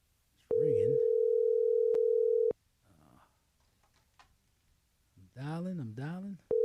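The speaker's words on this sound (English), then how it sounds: "It's ringing." Telephone ringing tone on a call, a steady electronic tone lasting about two seconds and then repeating, heard over a phone line with people talking before and after it.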